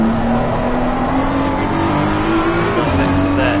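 A BMW race car in a racing video game powers out of a corner, its engine droning loud and steady as the pitch climbs, then a gear change, with a commentator talking over it.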